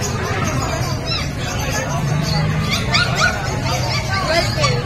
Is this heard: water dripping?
no